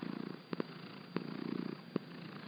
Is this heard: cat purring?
yes